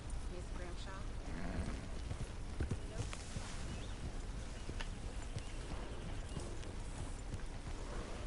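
Horse hooves clip-clop at a steady walking pace in a western video game, a soft, even rhythm of hoofbeats running throughout with voices heard faintly alongside.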